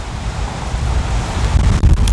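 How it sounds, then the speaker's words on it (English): Strong wind gusts blow outdoors on a chilly fall day, buffeting the microphone with a constant low rumble and a few sharper thumps, with no voices. "it's quite windy out"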